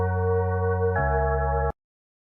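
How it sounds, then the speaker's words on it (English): An electronic bell rings in two sustained tonal segments, the pitch stepping partway through before cutting off abruptly and leaving silence. "Bell ringing."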